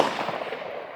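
An SG36 rifle fires a single loud shot of PMC Bronze 55-grain ammunition at an outdoor range, a sharp close crack that decays quickly into a brief echoing tail.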